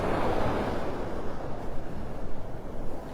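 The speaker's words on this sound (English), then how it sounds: "That wind's hitting me right in the face." Strong wind buffeting the microphone on a beach at Delnor-Wiggins in North Naples, Florida, with a loud continuous rushing roar and surf washing in underneath, no voices.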